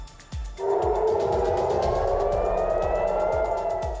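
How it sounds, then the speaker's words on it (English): A loud sustained air raid siren wails steadily with a slowly drifting pitch in Israel during missile interceptions, while low rhythmic thumps pulse underneath. "Sirens sound as missiles are intercepted in Israel."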